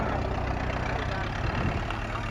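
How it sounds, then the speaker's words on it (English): A classic car's flathead engine idles at an outdoor car show, a dense, low, steady rumble with an even rhythmic pulse, close and fairly loud for a short stretch. "That little flathead engine in there."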